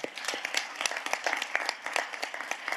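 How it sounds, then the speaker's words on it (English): An audience claps at a parliamentary meeting during the COP28 climate conference, a steady patter of applause that is moderately distant and fairly soft, with faint voices beneath. "Can I have a round of applause for each one of you?"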